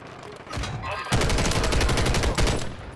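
Gunfire rips through a Warzone 3 match, a loud rapid burst of shots that starts suddenly and runs continuously, close and harsh.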